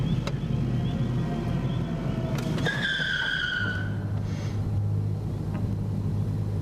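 Robby's car skids with a high tire squeal over a constant loud rumble of engine and road noise. The squeal rises, bends downward and fades within about two seconds.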